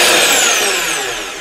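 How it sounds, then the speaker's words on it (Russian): A Zubr ZP-32-1100K horizontal rotary hammer drills in non-impact mode, giving a steady, loud, close motor whine that fades slightly as it winds down. "Режим сверления без удара."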